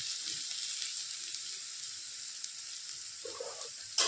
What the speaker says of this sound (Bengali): এটা একটু ভেজে নিচ্ছি একটু আলুটা ভাজতে একটু সময় লাগবে